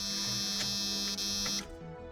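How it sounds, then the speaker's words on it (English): Door chime buzzer of a 1993 Jeep Cherokee XJ sounding as a steady, loud electronic tone, holding continuously for about one and a half seconds before cutting off, leaving a faint hum behind. "those of you who hate the Jeep door chime buzzer"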